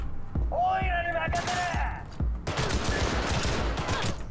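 Gunfire in Cyberpunk 2077 comes as a rhythmic run of heavy, thumping shots, first amid game tones and then as dense, loud continuous firing.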